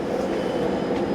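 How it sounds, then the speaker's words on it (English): An LRT train departing from a station platform, a steady loud rumble of rolling wheels and a faint high whine, with no talk over it. "That sound you hear is my train departing."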